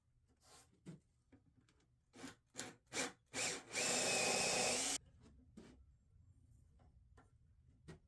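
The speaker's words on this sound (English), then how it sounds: "drill the holes deeper and a bit bigger to then screw in some threaded inserts" A drill bores deeper, wider holes into a wooden desk top for threaded inserts; short scraping bursts build to a sustained loud whir of about a second, then fall back to light taps and rubbing.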